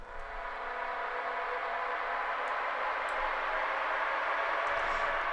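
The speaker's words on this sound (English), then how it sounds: "Then I have this FX riser." FX riser in a deep progressive house build-up, washed out with reverb and delay into a steady, airy wash of noise that swells slightly and sustains at a quiet level, with a few faint ticks.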